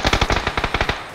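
Rapid machine gun fire in a video game, about nine sharp, evenly spaced shots in one sustained burst, loud and close with no talking.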